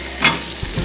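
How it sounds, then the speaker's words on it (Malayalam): Garlic and shallots hit a pan for a Kerala coconut-roasted chicken curry, giving a brief loud sizzle burst followed by a softer steady frying hiss with a low stirring thump near the end. "ഇനി നമുക്ക് തീ കുറച്ച് വെച്ച് വേണം വഴറ്റാൻ."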